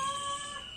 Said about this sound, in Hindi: बिल्ली आंटी की बिल्ली भी खाना मांग रही है